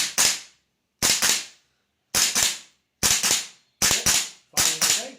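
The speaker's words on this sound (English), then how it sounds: "Firing okay, hitting the target." GHK M4 airsoft rifle with a steel bolt carrier firing semi-auto indoors at a target about 8 meters away in a bathroom: six sharp, loud cracks, each doubled by a quick echo, spaced roughly a second apart.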